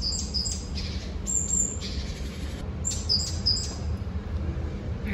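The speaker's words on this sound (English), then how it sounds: "There's a bird inside." Bird squawking and chirping in short bursts over a steady low ventilation hum inside a botanical greenhouse in Stockholm, faint and somewhat distant.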